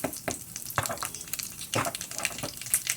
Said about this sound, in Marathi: फोडणी आता याच्यात घालून द्यायची आपल्या केलेल्या चटणीमध्ये